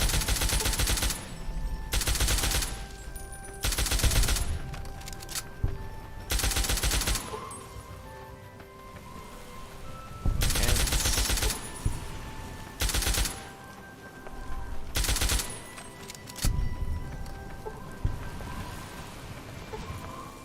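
Bursts of gunfire in the video game Fallout, Tale of Two Wastelands, aimed at giant ants in a desolate wasteland, loud repeated volleys separated by quieter gaps of ambient game sound.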